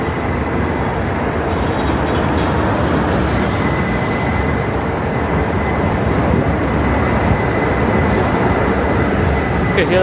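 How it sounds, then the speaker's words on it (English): Steady loud rumble of a passing train on an NYC elevated line heard from the street, with a thin sustained metallic squeal of wheels on track riding over the roar throughout. "You can hear that train squeaking behind me."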